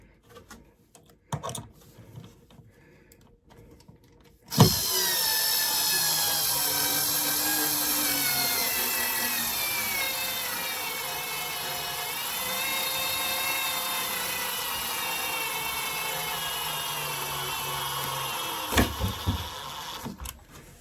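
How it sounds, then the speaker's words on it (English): A battery-powered screwdriver drives screws into a model railway layout, its motor whining steadily for over ten seconds after a few quiet knocks, then stopping with a clatter near the end. "This is where I'm glad I charged the screwdriver battery yesterday."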